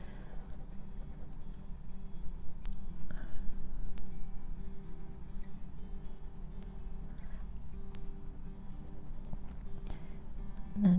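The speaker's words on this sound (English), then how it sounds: "I'm just going to color a little bit in there." A colored pencil scratches softly across paper in slow, steady strokes, heard close up and fairly quiet over a low background hum.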